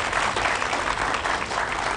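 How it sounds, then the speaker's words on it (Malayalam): A studio audience on a Malayalam television variety show breaks into steady, dense applause that holds at full strength for the whole stretch, with no voices over it. "നല്ലൊരു കൈയടി."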